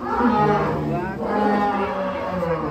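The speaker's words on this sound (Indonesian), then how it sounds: "sapi saya ini namanya Rossi juara nomor 1" A large prize-winning contest cow, a red champion bull, gives a long, loud, deep moo that carries through the whole stretch with a brief dip in the middle, close by and unobstructed.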